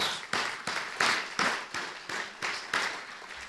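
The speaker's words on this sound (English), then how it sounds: "So let's give them a round of applause." Clapping at an art museum event, a few distinct claps in a loose, uneven rhythm, close and moderately loud, sounding like a small group rather than a full crowd.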